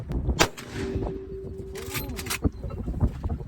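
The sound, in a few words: rifle gunshot during bison hunt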